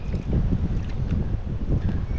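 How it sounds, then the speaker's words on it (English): Strong wind buffets the microphone in a steady, rumbling roar that fills the whole clip with low, gusty noise and no voices. "It's really windy today, of course."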